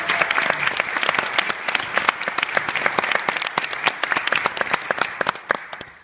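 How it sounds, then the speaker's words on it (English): An audience applauding steadily, many hands clapping in a dense, even wash that carries on for several seconds before thinning slightly at the end. "Yeah, we'll clap for that."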